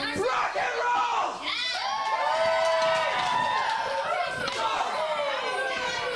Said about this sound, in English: really starting to get the crowd into it here too